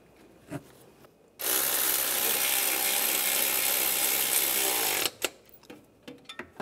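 Nuts being tightened on a Cadillac SRX engine, a loud continuous buzzing ratchet run lasting several seconds, bracketed by a few clicks and taps of tools before and after.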